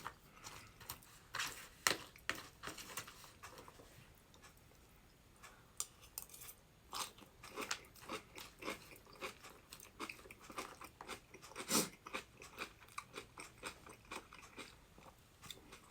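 Crunchy salad is chewed up close in quiet surroundings, with irregular crisp bites and crunches spread over the whole stretch, plus a few faint clinks of cutlery.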